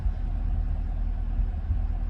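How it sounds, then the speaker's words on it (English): A 2023 Chevrolet Camaro 1SS convertible's V8 idles in track mode, a loud, steady deep rumble that stays even throughout with no voices. "If we switch to track mode, it's a really loud noise. Changes the whole personality of the vehicle. Even the idle changes"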